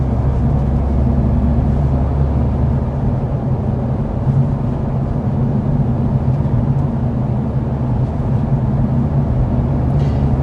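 Cabin of a 2024 Honda Civic Type R with a manual transmission, cruising at 55 mph in sixth gear in comfort mode: a loud, steady low road and engine rumble throughout, with no talking.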